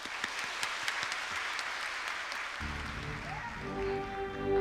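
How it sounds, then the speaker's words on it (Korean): Church congregation applause during a special autumn dawn revival service, a broad even clapping wash that continues as instrumental music swells in underneath partway through. "박수로 함께 맞이해 주시기 바랍니다."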